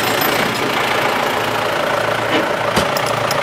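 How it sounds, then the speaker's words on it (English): A tractor engine runs steadily throughout, a constant mechanical drone with a low hum, close and fairly loud, with one brief clatter near the end. "since the tractor's here, if we can pull these out"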